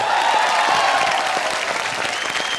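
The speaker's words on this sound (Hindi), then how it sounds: "एक बार जोरदार तालियां पूरी टीम।" A studio audience at a comedy show breaks into loud, dense applause for the whole team, a continuous wash of clapping throughout.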